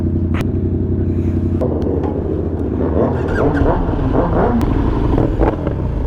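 A KTM 1290 Super Duke's engine rumbles steadily, loud and close, with a rising note as it pulls away, while a rider talks excitedly over it.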